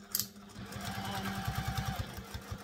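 A sewing machine stitches a seam on a sling bag in a quick, steady run of close, rhythmic mechanical thumps, fairly quiet and heard alone.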